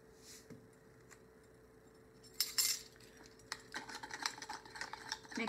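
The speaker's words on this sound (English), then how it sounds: "Mix it in there until it's all dissolved and you can't see the salt anymore." A metal spoon stirring salt into a quarter cup of vinegar, with soft, quiet clinks and scraping against the container, faint and close after a near-silent start.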